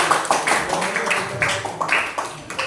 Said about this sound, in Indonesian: berikan tepuk tangan kepada kelompok 4